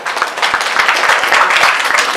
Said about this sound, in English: Please clap your hands together for Vikrant Kafle.